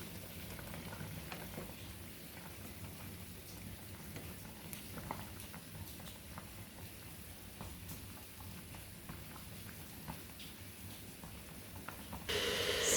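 Chinese-style chicken soup with chicken stock and salt bubbles in a pot, a soft steady simmering crackle and hiss with small pops, close and continuous.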